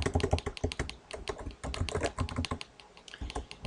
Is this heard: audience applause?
no